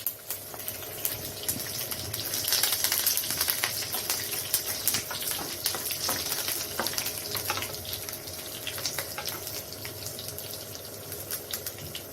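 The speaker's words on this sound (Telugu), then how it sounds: "ఎల్లిపాయ కరివేపాకు వేసుకుందాం" Garlic and curry leaves frying in hot oil in a kadai for a tempering, giving a continuous close hissing sizzle that runs steadily for several seconds without any talking.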